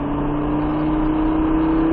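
A Lamborghini on a race track during a track day, its engine a steady loud droning note held under power for the whole stretch, with a strong steady tone and no speech.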